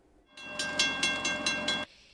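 A derailed freight train on a busy city line between street crossings sounds a loud sustained horn blast, with pulsing tones over a rumbling base that cut off sharply, leaving a faint tail.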